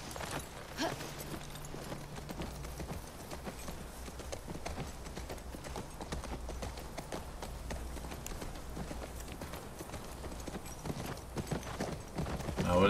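Horse hooves in the video game The Last of Us Part II, a continuous rhythmic clip-clop of a running horse with steady, fairly close hoofbeats under a game soundscape, with no talking.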